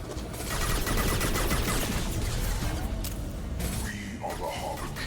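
Gunfire in a Mass Effect Legendary Edition firefight, dense bursts of rapid shots with thuds under a speaking voice, fading toward the end.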